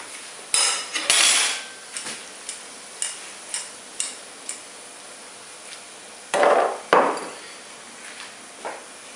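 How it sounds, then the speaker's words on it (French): Cooked pasta is stirred with oil in a bowl, a utensil tapping and clinking against the bowl in irregular light knocks with a couple of louder scraping clatters. "Je mets mes pâtes dans l'huile et le bol. Je vais mélanger."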